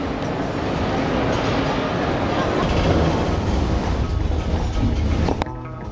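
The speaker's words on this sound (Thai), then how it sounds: "บรรยากาศในรถไฟนะคะ" Steady rumble and rushing noise inside a moving train travelling from Paris to Venice, continuous and fairly loud throughout, cutting off abruptly near the end.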